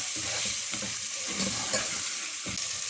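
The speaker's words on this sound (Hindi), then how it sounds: "थोड़ी देर इसको भून लेंगे।" Chicken fries in a hot pan for a chicken curry, sizzling and crackling steadily, with occasional stirring scrapes and clinks throughout.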